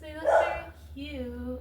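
Dogs indoors give a loud bark followed by a higher whining yip, heard while a person talks nearby.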